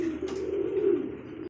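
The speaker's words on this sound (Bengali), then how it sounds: "দেখতে পাচ্ছি এখানে আরো এক জোড়া রাসগোল্লা কবুতর" Rasgolla pigeons give a low, steady cooing call lasting just over a second, close and moderately loud, ending abruptly.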